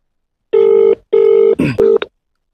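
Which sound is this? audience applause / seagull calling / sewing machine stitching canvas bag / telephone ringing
telephone ringing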